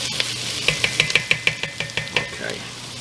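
Panang curry paste fries and scorches in a pan, with a soft sizzle under a rhythmic series of sharp spatula taps and scrapes against the pan, close and distinct, fading at the end.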